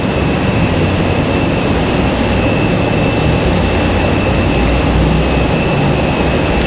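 An MD-11 jet taxiing at Raleigh-Durham airport on a stormy night, a loud, continuous broadband engine rumble and whine, steady and close, with no voices.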